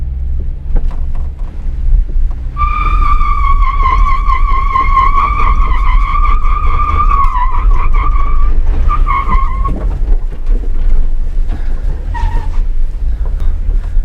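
A stock Jeep with an open differential spins its tires on slickrock, a loud whining squeal rising and wavering for several seconds over a heavy engine drone, then cutting out in short bursts.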